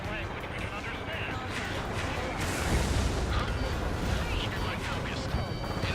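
A huge explosion rumbles through an aerial combat battle in Ace Combat 7, a dense, sustained low roar with crackling debris that swells midway, under a player's excited talk.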